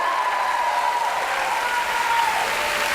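An audience at a spoken-word poetry event applauds and cheers loudly and continuously, a dense wash of clapping with a sustained whoop rising above it.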